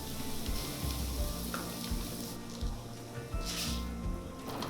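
Shallots and garlic frying in oil for a groats risotto, a steady close sizzle with soft stirring scrapes and occasional louder bursts of spitting.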